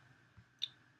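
A single sharp mouse click on a button in the Safari browser, crisp and close against a faint steady background hum, with a softer bump just before it.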